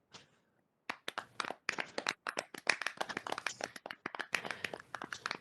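An audience at a cybersecurity talk breaks into clapping after a brief quiet start: scattered, uneven handclaps from a modest crowd, fairly close and building into a loose, sustained patter.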